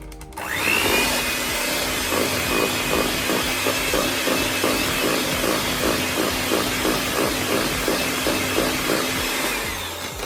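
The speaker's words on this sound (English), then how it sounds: "so the mixer can catch it and get it all mixed in" Electric hand mixer whirring steadily as it beats cheesecake batter with sour cream in a bowl, a loud continuous motor drone with a fast rhythmic beating texture throughout, no talking.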